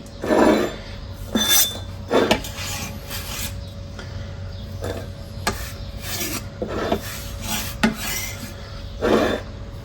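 A knife slicing an onion finely on a wooden board, crisp rasping strokes repeating at irregular intervals, close and clear with no talk.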